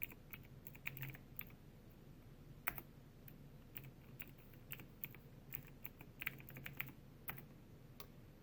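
Login being typed on a computer keyboard at a Linux terminal: quiet, irregular clusters of key clicks with a few sharper strikes and short pauses between bursts, no speech.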